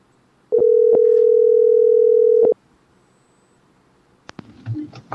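A steady telephone dial tone plays loud and continuous for about two seconds while a dropped call is redialled, followed by a few clicks and a brief burst of line noise.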